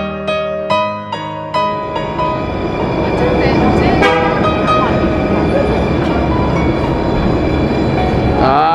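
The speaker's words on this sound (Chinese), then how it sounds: "啊，车子进站喽！" A train pulls into a station on a Tateyama Kurobe trip, sounding a few short horn toots at the start before the steady rumble of rail cars fills the rest, loud and close, with a bit of talk in the background.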